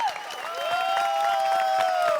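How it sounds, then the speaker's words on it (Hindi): An audience claps at a comic poetry gathering (hasya kavi sammelan) on a TV sitcom set. The applause is short and lively, with a sustained tonal sound running over the clapping. "तालियां तालियां।"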